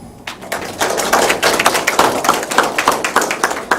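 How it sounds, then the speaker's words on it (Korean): Clapping from a modest audience at a youth mock council welcome ceremony at Jecheon city council, individual claps distinct and close, building quickly into a steady round. "앞으로 약 1시간 동안 모의회를 진행하는 청소년들에게 힘찬 격려의 박수를 보내주시기 바랍니다."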